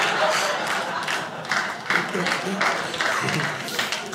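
Audience at a stand-up comedy show clapping throughout, a steady crowd applause with bursts of laughter mixed in, fairly close and continuous.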